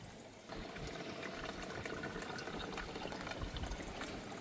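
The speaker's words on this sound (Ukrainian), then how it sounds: "ми знайшли джерело якраз прямо по трасі. Зараз наберемо водичку" Water from a roadside spring runs into containers, a steady close splashing rush that starts abruptly and continues evenly without any voices.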